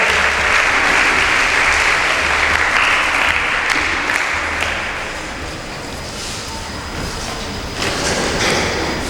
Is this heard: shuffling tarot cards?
no